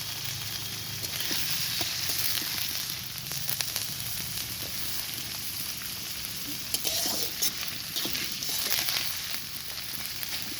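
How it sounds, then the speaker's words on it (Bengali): Chopped onions frying in hot oil in a kadai, a steady close sizzle with occasional stirring scrapes and crackles running throughout without speech. "এবার পেঁয়াজটা লাল লাল করে ভাজা হোক"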